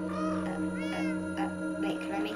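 Minecraft cats meow repeatedly in the game, bright rising and falling mewing calls that overlap one another over a steady background hum.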